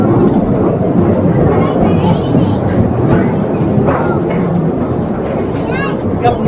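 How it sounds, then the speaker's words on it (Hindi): A train running through a tunnel deep inside the Khewra Salt Mine gives a loud, steady rumble and clatter that fills the whole stretch, with voices talking over it. "तकरीबन 2 किलोमीटर हो गया और अभी तक ट्रेन चल रही है ख्योड़ा सॉल्ट माइन के अंदर"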